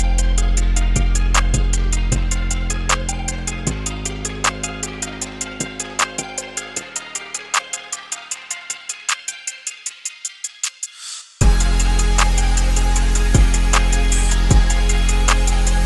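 Trap beat drop: a dense, loud beat with hard hits and a filtered vocal, thinning into a filtered, fading stretch before slamming back in at full volume for the final seconds.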